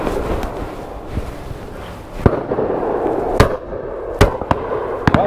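Shotgun shots at a clay shooting ground, several sharp cracks spread across the stretch, some near and some farther off, over open outdoor rumble with no talk.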